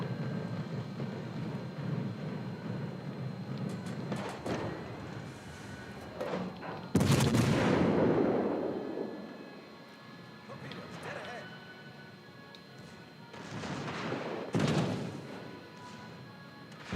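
A warship's front gun turrets fire in a naval video game, producing heavy booms with long rumbling tails, one especially loud close blast among several salvos, with voice faintly present.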